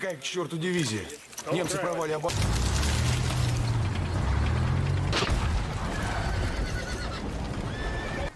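A frightened horse in a war film gives a sharp, wavering whinny, then loud battle noise with hooves and rumbling blasts takes over while someone narrates over it.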